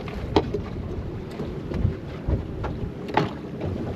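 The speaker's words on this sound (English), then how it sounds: "The wind's pretty strong, so hopefully it'll still be able to hold us." Strong wind buffets a boat out on the water near Perth during squid fishing, a steady broadband rush with a few louder gusts thumping the microphone.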